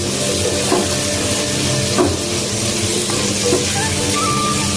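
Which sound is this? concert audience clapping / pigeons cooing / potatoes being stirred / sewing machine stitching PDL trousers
potatoes being stirred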